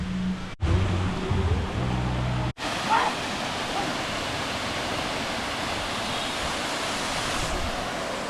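A waterfall in Vietnam roars as steady, broadband rushing water that fills the whole clip, loud and close, with a brief burst of other noise near the start before the continuous flow takes over.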